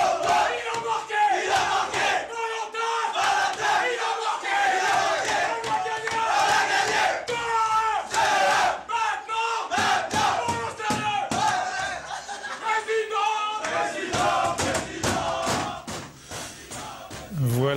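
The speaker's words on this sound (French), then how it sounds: "Ça c'est le cri de guerre des Niçois." OGC Nice players bellow a rhythmic victory battle cry together in the locker room after beating Paris Saint-Germain, with loud group chanting punctuated by thumps and slaps throughout.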